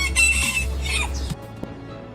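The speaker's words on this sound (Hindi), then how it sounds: "एक क्लिप तो ये भी है जहाँ इस मुर्गे की अजान शुरू होते ही ख़त्म हो जाती है" A rooster crows loudly nearby, with a strong harmonic call that breaks off abruptly after about a second, followed by a faint cluck and quiet background.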